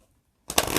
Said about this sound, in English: I'm going to try and riffle shuffle it.